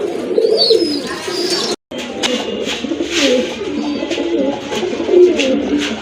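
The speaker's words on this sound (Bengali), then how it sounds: "তিন জোড়া রেসার কবুতর রয়েছে" Racer pigeons coo in a loft in Gaziantep-style pigeon collection in Gazipur, several soft, repeated throaty coos close by, with a brief dropout midway and faint bird chatter around.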